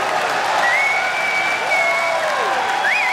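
An esports arena crowd at a Counter-Strike major in Boston applauds and cheers Cloud9 steadily through the moment, dense and loud, with a caster's voice faint underneath.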